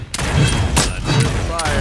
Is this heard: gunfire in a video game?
yes